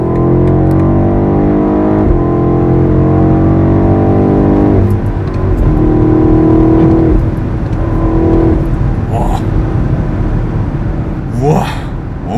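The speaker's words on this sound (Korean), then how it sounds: "스포츠 플러스를 놓은 상태에서 가속을 훅 하면 장난이 아니에요" A BMW X7 M50i V8 SUV accelerating hard in Sport Plus mode, a loud, close engine roar whose pitch climbs steadily before levelling off into road noise, with someone talking over it.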